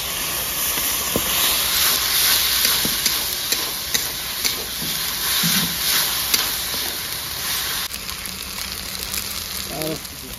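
Water poured into a hot pan of spices for a village-style rohu fish and potato curry sets off a loud, continuous steaming hiss, with scattered clinks and faint voices beneath it.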